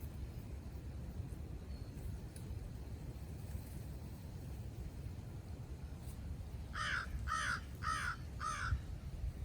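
Several crow caws sound in a quick series near the end, moderately loud over a steady outdoor background hum, in a public spot where someone is painting.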